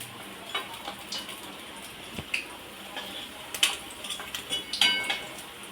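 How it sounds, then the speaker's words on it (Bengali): Small prawn pakoras frying in hot oil, a constant soft sizzle with scattered sharper pops and crackles close by, no talking. "বাকি পকোড়াগুলো আমি একইভাবে সবগুলোই ভেজে নেব"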